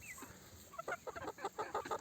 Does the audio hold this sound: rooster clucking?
yes